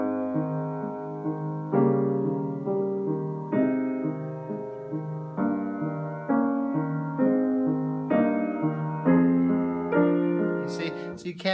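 Solo piano playing a Beethoven piece with the melody not voiced above the accompaniment, even sustained notes and chords in a steady rhythm, close and alone.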